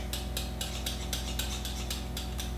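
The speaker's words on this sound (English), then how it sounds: "put it on this, give it a good whisk" A whisk beats butterscotch pie filling in a pot with a quick, even, rhythmic scraping and clinking, close and steady, with no talk.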